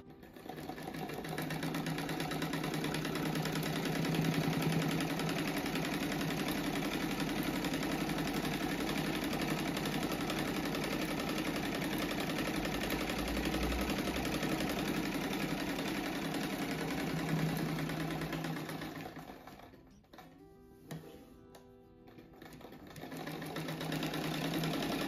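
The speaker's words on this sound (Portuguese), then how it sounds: "ele vai ser costurado aqui, passado no overlock" An overlock sewing machine stitches a thin satin-like lining onto a patchwork quilt, giving a steady, loud mechanical whir that runs for about eighteen seconds, stops briefly and then starts again.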